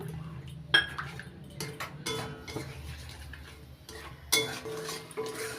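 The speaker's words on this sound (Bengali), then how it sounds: "মশলার বাটি ধুয়ে জল দিয়ে দিচ্ছি" Kitchen clatter of a metal spice bowl being rinsed and water poured into a pan while cauliflower and paneer cook, with scattered clinks and knocks over a low steady background, no talk.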